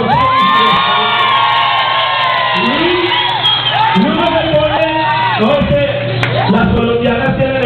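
A lively crowd at a trova show in Medellín, Colombia cheers, whoops and shouts continuously, loud and close, with excited voices rising over one another throughout.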